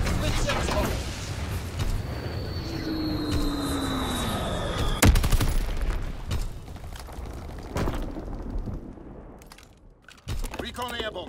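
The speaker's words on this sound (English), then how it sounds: "Drop it, Fritz X bomb." In the World War II shooter Call of Duty WWII, a Fritz X guided bomb whistles down with a falling tone, then strikes with a sharp blast. Gunfire and game voices continue around it.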